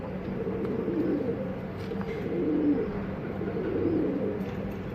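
Arab pigeons cooing in a loft, a steady low murmuring coo from several birds layered into a continuous drone, fairly close and without talk.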